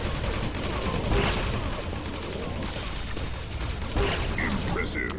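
Plasma weapons fire in rapid bursts during an arena shooter match, crackling volleys and sharp impacts layered with a dense game soundtrack, with a few brighter hits standing out near the end.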